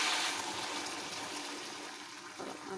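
Water poured into a cooking pot of taro with small fish on a home kitchen stove, a steady broadband rush and trickle that stays fairly even, with a brief splashy change near the end.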